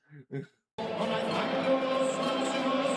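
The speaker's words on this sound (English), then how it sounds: "Yes, that is the entire crowd singing." A stadium crowd sings together before a Wales vs Austria football match, a massed, sustained chorus heard from a distance, after a brief spoken voice.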